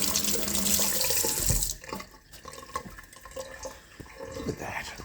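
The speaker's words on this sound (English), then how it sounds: "I'll just wash the hands real quick." Tap water runs loudly into a sink while hands are washed for under two seconds, then the flow cuts off, leaving quieter drips and small handling clatter.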